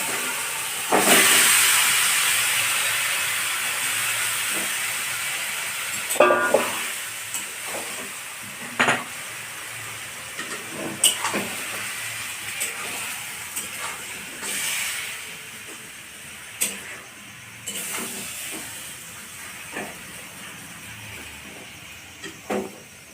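Chicken hits a pan of frying onions for chicken rezala, giving a loud, continuous hissing sizzle with repeated scraping stir clatters throughout, no voices.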